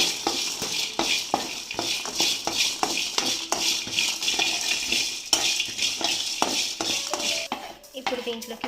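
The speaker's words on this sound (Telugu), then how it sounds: "ఇప్పుడు దీంట్లోకి కొద్దిగా ధనియాలను కూడా యాడ్ చేసుకొని బాగా వేయించుకోవాలి." Coriander seeds roasting in a pan for a Vankai Pooram (stuffed brinjal) masala, stirred briskly with a metal spoon, giving repeated close scraping clicks and dry rattling over a soft frying hiss.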